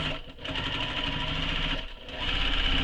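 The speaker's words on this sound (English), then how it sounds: "I'm just going to stitch back over where that connector is" Sewing machine running steadily as it back-stitches several passes over a connector on a convertible tote bag, a close, continuous mechanical hum with a brief slowdown partway through.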